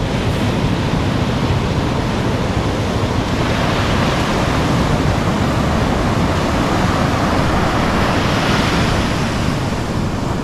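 Rough open-sea waves surging beside a small boat heading out, a constant loud roar of surf and wind buffeting the microphone with no pause.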